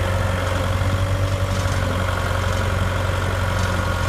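Steady diesel engine of a trencher idling and running close by, a continuous low rumble with a faint hum, no talk.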